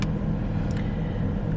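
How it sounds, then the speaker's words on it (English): A car engine idles steadily while warming up, a low constant rumble with no voices. "I'm actually just waiting for my car to warm up a little bit."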